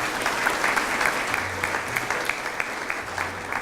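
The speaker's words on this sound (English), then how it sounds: "Round of applause for Kirk Clark." Audience applause for Kirk Clark at a McAllen ISD school partners breakfast, lively clapping with distinct sharp claps over a dense crowd, steady for several seconds.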